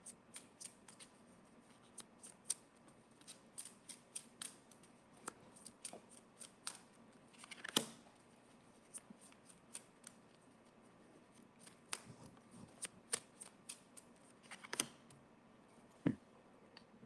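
Tarot cards shuffled and drawn from the deck, a steady run of soft, close papery flicks and clicks with a few sharper snaps, quiet and alone without talk.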